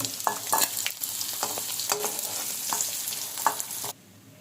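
Onions and chillies frying in leftover oil for a dry fish and white brinjal curry, a steady close sizzle broken by repeated spoon scrapes and stirring clatter, ending abruptly.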